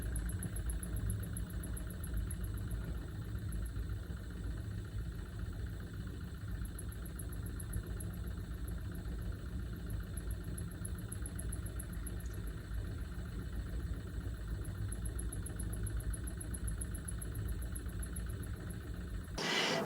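A faulty Maxxair roof fan motor in a camper van, run below 20% speed, gives a faint, thin high-pitched squeal that pulses on and off above a steady low hum. No one speaks.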